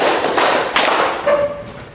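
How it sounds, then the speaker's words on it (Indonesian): Three sharp hand claps from a classroom group, evenly spaced and close, each a short crisp burst with nothing else in between. "tepuk 3 kali"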